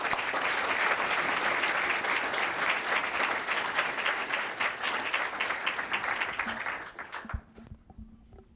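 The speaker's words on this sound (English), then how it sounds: "let's give them a round of applause" Audience at a university speaker series event bursts into sustained clapping, loud and dense at first, then thinning out and fading to scattered claps before it stops.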